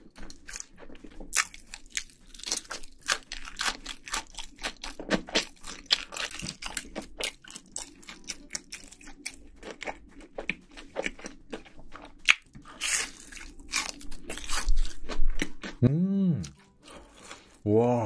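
Close mukbang-style eating of pizza, spaghetti and shrimp rings: crisp bites, crunching and wet chewing come in irregular bursts between quiet gaps, with a voice talking briefly near the end.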